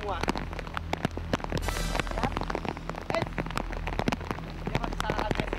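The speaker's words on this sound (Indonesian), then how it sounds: "Hujan yang bertambah deras tidak menurunkan agresivitas serangan piton." Heavy rain pours near a Japanese cave, with dense, close drops pattering and splashing on surfaces throughout, and a person speaks briefly over the steady downpour.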